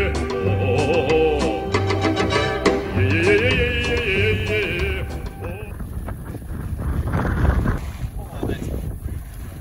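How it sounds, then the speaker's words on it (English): Heavy wind at Leslie Dam buffets the microphone in a loud, continuous roar, with voices and clattering noises from a 1987 tinny boat in the first half. "And it is so windy."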